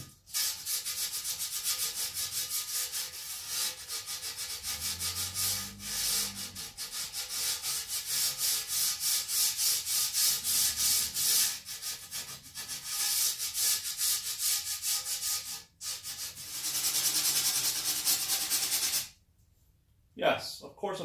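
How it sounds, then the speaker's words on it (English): Sanding the freshly cut edge of a glass pane for a DIY aquarium lid, a steady abrasive rubbing that runs for most of the clip with brief pauses, close and fairly loud, ending in a short silence. "gently just kind of give her a little sanding on the edge here."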